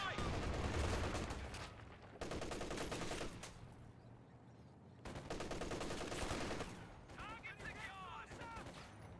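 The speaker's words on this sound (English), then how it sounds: "Machine gun is setting up." Machine gun in Company of Heroes 2 firing in repeated bursts that start and stop, mixed with other battlefield gunfire, while a commentator talks over it.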